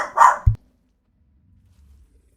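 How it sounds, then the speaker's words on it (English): A puppy gives a single sharp, close bark, followed by a soft low whimper or snuffle, then near silence. "Sorry, we have company, and so the puppy gets a little frisky."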